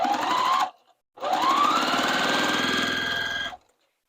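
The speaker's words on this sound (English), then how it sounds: "And then we'll sew again with that scant 1/4 inch seam." A sewing machine stitches a scant quarter-inch seam through quilting fabric strips, a loud steady whirring run of about half a second, a brief pause, then a longer continuous burst of close, even motor hum.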